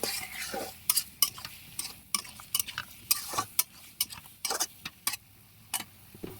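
A spoon scrapes and knocks against a pot while stirring a singi fish and bottle gourd curry after salt goes in, irregular clinking taps repeating closely over a quiet background.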